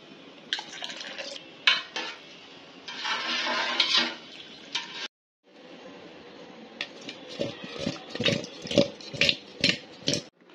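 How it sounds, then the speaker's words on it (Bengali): A spoon clatters and scrapes against a cooking pot as it is stirred, with irregular metallic knocks and rustling scrapes, a short silent gap, then a run of sharper rhythmic clinks. "আগে একটু নাড়িয়ে দিই"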